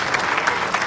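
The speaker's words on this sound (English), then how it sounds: "round of applause for our two-time main event winning Doyle Brunson" Dense applause from a poker tournament audience at the 2007 World Series of Poker Main Event, steady and close throughout the short burst with no talk over it.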